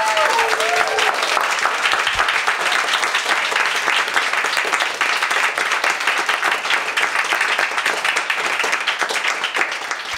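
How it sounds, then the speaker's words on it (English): Sustained audience applause fills a talk event on polyamory, dense steady clapping from a seated crowd, loud and continuous throughout with a faint voice at the very start. "I just want to give a big round of applause for"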